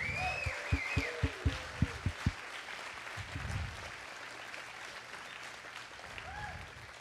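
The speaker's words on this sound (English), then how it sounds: "can we give a round of applause to the folks in the room" A round of applause from an audience at a 3D web festival event, a short burst of sharp claps in the opening seconds that fades into a sustained, murmuring crowd clapping softly.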